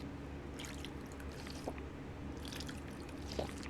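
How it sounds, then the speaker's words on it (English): Drinking water in Fallout 4 produces a couple of soft liquid gulps and small splashes over a steady low in-game background hum, fairly quiet, with no voices. "We gotta drink some water."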